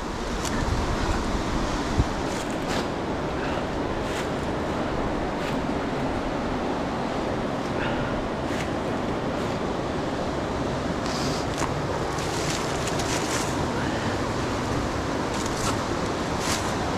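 Rushing whitewater of Dartmouth Rapids at Ohiopyle fills the scene as a steady, loud, broadband roar with no voices over it.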